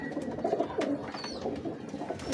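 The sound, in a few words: Teddy pigeons cooing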